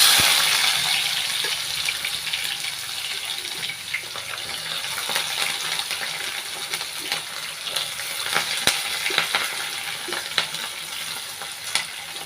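Chopped onions and cumin seeds sizzle in hot oil in a pan for Nellore-style fish curry, a constant frying hiss broken by repeated scraping stirs, with no one speaking.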